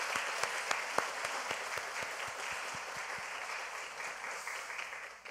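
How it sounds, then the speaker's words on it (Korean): A church congregation applauds to encourage the teachers who ran a children's English camp, with steady, dense clapping that holds for several seconds at an even level, with no talk over it. "격려 박수 한번 하겠습니다"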